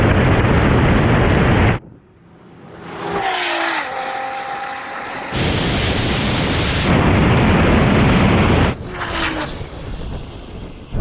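Tuned Nissan GT-R and Porsche 911 Turbo launching side by side in a drag race, a loud roaring burst of engine noise that drops away, then surges again with wind buffeting and passing whooshes.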